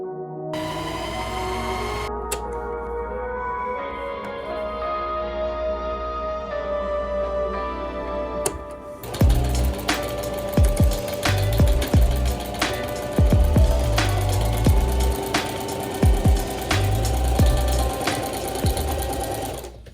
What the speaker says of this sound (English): sew a straight stitch across the shoulder seam